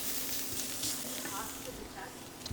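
Merguez lamb sausage sizzles in a pan on an induction cooktop with a steady, soft hiss and faint crackling that runs continuously throughout.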